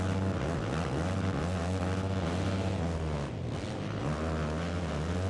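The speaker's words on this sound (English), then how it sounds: "Crimson with the rev limiters there." Dirt bike engine in an amateur supercross race, held hard against the rev limiter, making a loud, continuous buzzing drone that stutters briefly partway through.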